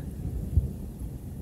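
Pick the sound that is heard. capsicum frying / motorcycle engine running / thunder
thunder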